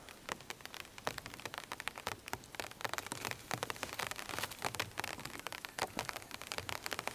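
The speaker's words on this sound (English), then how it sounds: "the rain has decided to come." Rain falls steadily on a campsite, a dense patter of fine close drops tapping on surfaces, soft and continuous with no voices.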